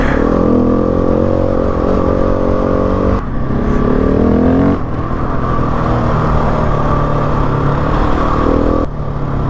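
Adventure motorcycle riding a high country track in Victoria, its engine droning steadily and loud throughout with shifting revs and road clatter, close to the mic with no talk.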